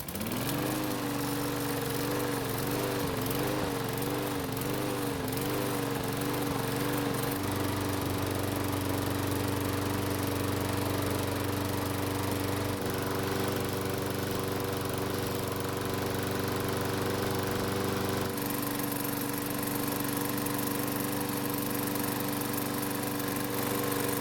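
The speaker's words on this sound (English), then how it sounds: "So it took a few pulls before the engine started" A Troy-Bilt lawn mower with a rope that pulls back starts with a few sputtering pulses, then settles into a steady, continuous engine drone that shifts pitch a few times over its long run.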